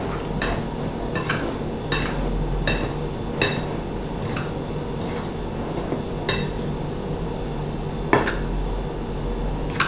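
Baking powder is mixed into flour in a bowl for Persian date cookies, with repeated light clinks and taps of a utensil against the bowl spaced irregularly over a steady background.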